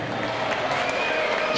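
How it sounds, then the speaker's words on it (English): A steady round of audience applause for a performer on stage, dense and sustained clapping at moderate level with faint crowd noise. "Let's give Shime a good round of applause"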